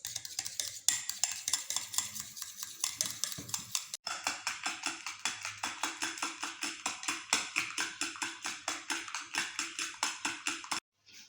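A spoon stirs half a teaspoon of cocoa powder in a small bowl, a close, steady run of rapid scraping and clinking strokes against the bowl that goes on for several seconds and stops abruptly near the end.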